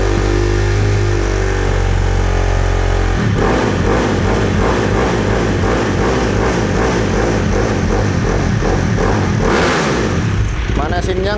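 A supermoto motorcycle engine idles roughly and loud, then after a few seconds breaks into repeated throttle blips and revs while warming up, close to the microphone.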